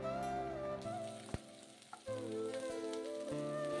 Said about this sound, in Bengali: এখন ওই ভাতটা একটু ভাজা করে নিই